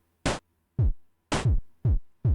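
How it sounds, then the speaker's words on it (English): A Pico-8 video game drum track alternates a crisp chiptune noise-burst snare with a deep, downward-sweeping synthetic kick, steady and evenly spaced, clean and loud against silence. "So it's kind of a kick and a snare."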